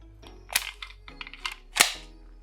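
A Beretta 92Xi pistol magazine releases and ejects, heard as a few sharp metallic clicks and clacks with one louder snap near the end, close up and with no talking.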